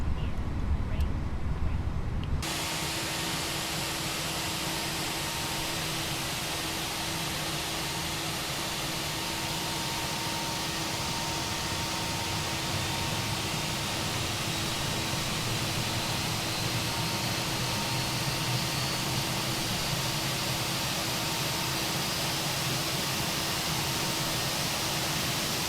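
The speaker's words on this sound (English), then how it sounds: "There goes the engine starting up." An Airbus A321 engine spools up in Microsoft Flight Simulator 2020, a dense steady roar and hiss that starts abruptly after a short quieter moment and holds at a constant level, with a faint tonal whine running through it.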